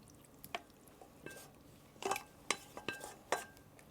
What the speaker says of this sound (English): Now, we put in the rest of the pasta.